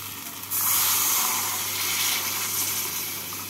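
Water poured into a pan of spiced eggplant and potatoes frying for a tangra fish curry bursts into a loud, steady hiss and sizzle that swells after a moment and holds close and continuous, with no talking.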